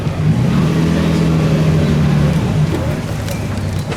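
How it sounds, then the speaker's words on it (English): A Lamborghini Miura at the 2017 Concorso d'Eleganza Villa d'Este gives a loud, close engine drone with a steady low hum that eases off after a few seconds, with outdoor background noise. "The author of Sherlock Holmes used to own this Lamborghini Miura."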